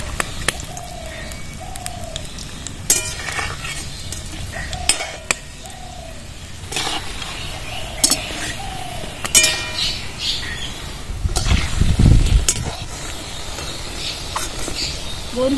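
Besan fuchka tokkas fry in hot oil with a steady, soft sizzle. Scattered clinks of a utensil stirring and turning them punctuate it, and a louder bubbling burst comes near the end.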